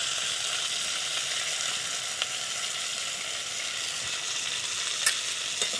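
Potatoes sautéing in a pan with ginger paste and chili paste, a steady close sizzle with faint scraping stirs and a couple of sharp clicks near the end.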